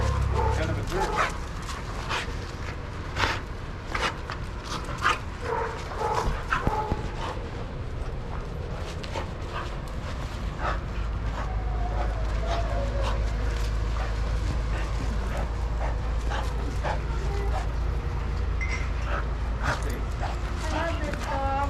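Dogs engaged in overly rough play, with repeated sharp barks, yips and whimpers scattered over a steady low rumble, as people talk in the background.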